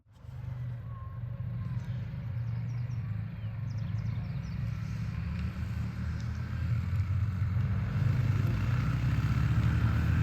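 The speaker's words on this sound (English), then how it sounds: "We're out for a rip on the bikes. Here they come." Motorbikes out for an evening ride approach and rumble past, a low engine drone building steadily louder over ten seconds outdoors.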